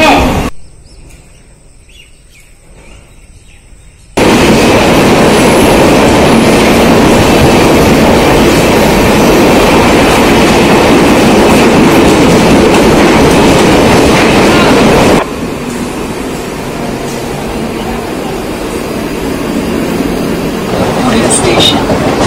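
An old Mumbai local train bound for Thane rolls along the rails, a loud steady rumble with rhythmic clatter. It follows a quiet platform stretch with station announcements and then eases to a softer running noise.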